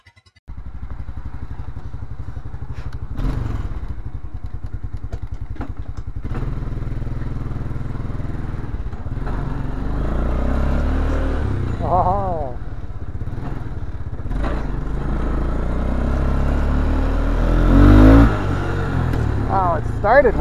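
A 1999 Arctic Cat 300 4x4 ATV engine runs on a test ride, a loud, steady, close low rumble throughout with slight rises in pitch as it picks up speed.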